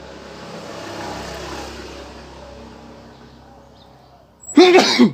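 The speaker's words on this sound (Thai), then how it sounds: "ไว้จามก่อนได้ไหม" A person reviewing Soundpeats earbuds gives a single sharp, loud sneeze at the very end, after several seconds of quiet indoor background.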